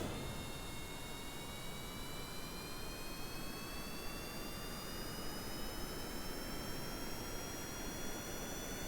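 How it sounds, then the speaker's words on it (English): Rocket engines roar to life in the video game Kerbal Space Program, a loud, steady jet-like rumble with high whining tones slowly rising in pitch, running unbroken and alone throughout. "Let's start our engines."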